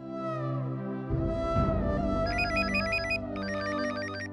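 A phone ringtone chimes in repeated bright melodic bursts over a sustained musical backdrop, fairly loud and close.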